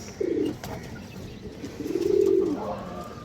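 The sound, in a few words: green-necked female pigeon cooing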